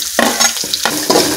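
Dried red chillies, curry leaves, green chillies and onion sizzle loudly in hot oil for tomato rice, with a few quick stirring scrapes breaking up the steady crackle close by.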